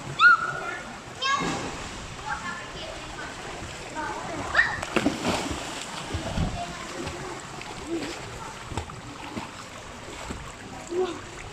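Children jump and splash into a swimming pool, with sloshing water and bursts of splashes under lively children's voices and an adult talking nearby.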